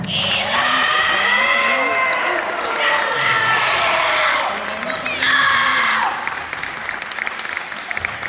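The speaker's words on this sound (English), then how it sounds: "one more round of applause" A high school band banquet crowd applauds soloists, duets, trios and the percussion choir, loud sustained clapping mixed with cheers, whoops and shouting voices, swelling again near the end.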